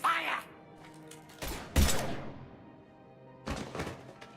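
Sharp weapon shots go off in Mass Effect 3, three or four loud, punchy bursts spaced apart amid game sounds and character dialogue.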